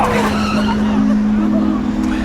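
A van skids into the back of a taxi in a film scene: a loud, close tire screech with a sustained engine tone runs through the whole short moment, with no clear impact.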